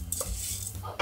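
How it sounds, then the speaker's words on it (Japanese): Italian rice is stirred gently in butter in a pan with a soft, continuous sizzle and a few light scrapes and clinks from the utensil against the pan, close and quiet. "お米ごと炒める"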